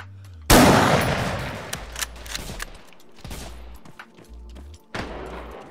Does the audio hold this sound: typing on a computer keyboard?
no